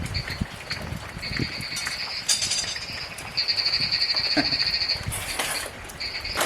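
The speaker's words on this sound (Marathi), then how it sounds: "पाऊस सुरू तर झाला आहे, तर बेडकांना आनंद झाला. जोरातच ओरडत आहेत." Loud chorus of frogs croaking after rain begins in a Konkan village, rapid pulsing trills overlapping and repeating, with a steady wet outdoor background and no speech.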